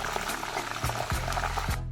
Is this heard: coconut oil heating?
yes